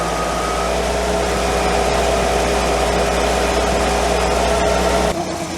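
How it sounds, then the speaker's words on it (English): A Volkswagen engine, one running on only three cylinders, holds a steady fast idle at close range, droning evenly and loudly before dropping off abruptly near the end. "just going to want to run the engine at a fast idle for a couple of seconds"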